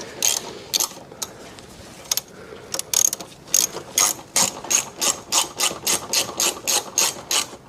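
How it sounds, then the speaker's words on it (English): A ratchet tightens a 10mm nut on the pollen filter housing of a Mercedes-Benz W211 in a close series of crisp clicking bursts that become faster and more regular. "You're going to put your 10mm nut back on, and then you're going to tighten it."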